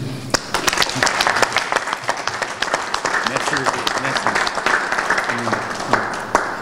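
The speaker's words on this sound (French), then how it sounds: "Je vous demande de l'applaudir beaucoup plus." Audience at a gathering of Congolese in Paris applauds steadily in a dense, sustained wash of clapping with sharp individual claps standing out, while a voice speaks faintly underneath.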